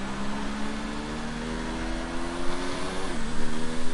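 A Williams F1 car's engine in the F1 2019 game drones at steady pitch during wet-weather winter testing, with a slight dip in tone near the end under rain-like hiss.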